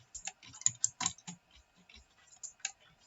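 Quiet, uneven bursts of computer keyboard typing, with clustered key clicks and short pauses between them, close and alone.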